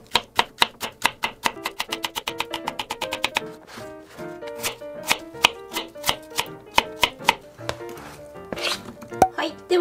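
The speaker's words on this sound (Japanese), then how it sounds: "長芋 300g の皮を剥いて、 1cm から 2cm 角程度食べやすい大きさに切って調味料の中に入れていってください" Peeled Chinese yam (nagaimo) being cut into cubes with a knife on a board, a run of crisp, quick taps followed by slower, spaced chops with small gaps between them.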